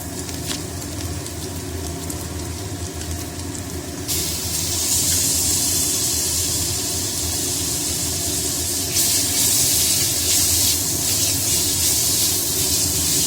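Garlic paste drops into a hot pan of fried onions for chicken butter masala, setting off a loud, bright sizzling hiss that swells suddenly and surges again a few seconds later, close by with no talking.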